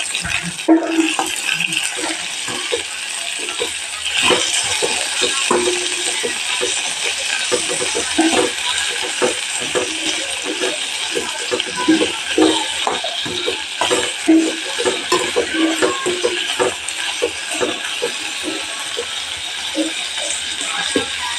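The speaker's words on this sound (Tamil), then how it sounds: "அதையும் போட்டு அதையும் இதோடையே வதக்கிட்டுக்கலாம்" Small tomatoes being sautéed in a pan for drumstick-leaf chutney make a busy sizzle broken by frequent clinks and scrapes of stirring, all fairly close.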